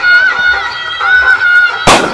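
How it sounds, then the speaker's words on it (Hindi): Firecrackers at an outdoor Chhath Puja celebration in Bihar: a sharp, loud bang bursts out near the end after a sustained horn-like tone, close and harsh. "इधर पटाखेबाजी हो रहा है, आप देख सकते हो"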